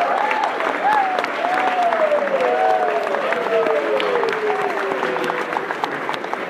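A graduation ceremony audience applauds steadily and loudly throughout, a dense, continuous clapping with a faint melodic tone drifting over it.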